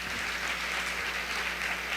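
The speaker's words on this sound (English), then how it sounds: "definitely have to give him a warm round of applause" Warm applause for the mayor at a college honors convocation, a dense, even spread of many hands clapping, moderately distant and continuous.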